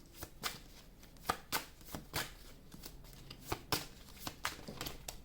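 Playing cards being dealt one at a time at a table, a steady series of soft, crisp slaps and flicks at a close distance with no talking.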